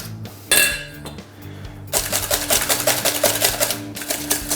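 A fork mashing banana and natural yogurt in a bowl gives quick clicking, tapping clinks of metal on the dish. A sharp knock comes first, then a steady run of rhythmic scrapes and taps.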